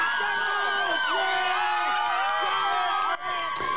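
A packed homecoming crowd at a high school football game cheers and shouts in a dense roar, with many overlapping voices and rising whoops, all loud and continuous until a brief dip near the end.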